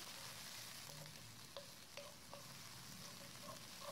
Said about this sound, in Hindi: अदरक लहसुन डालने के बाद हम इसको बहुत अच्छे से भूनेंगे